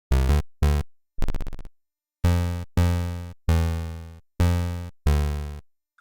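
Synth bass notes from a wavetable oscillator tuned three octaves down, eight loud separate hits with abrupt attacks and fading tails, one quick buzzy stuttering note in the middle, with silent gaps between them.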